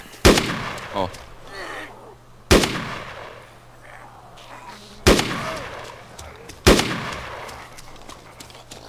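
Arma 2 DayZ gunfire: four loud, sharp single shots spaced a couple of seconds apart, each with a ringing tail, and a man's brief exclamation in between.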